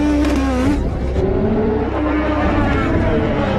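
IndyCar race cars rolling off and accelerating at Mid-Ohio during the 2013 race start, a dense, loud continuous engine roar with rising revs filling the whole stretch, heard from close by.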